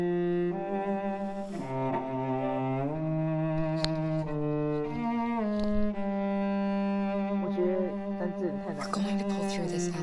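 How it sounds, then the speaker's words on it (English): Short two-note melodic motif built on a character's name, repeated in layered synth or orchestral music with sustained harmonic tones and shifting chords, steady and loud throughout with no talking. "I found a little theme that just seemed to fit over the top, which is taking Kara's name, Kara, and just using like a 2-syllable motif"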